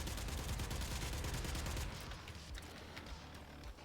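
An automatic shotgun blasts away in Warframe, a dense, continuous rattle of rapid booming shots that runs loud for nearly two seconds, then gives way to sparser scattered fire.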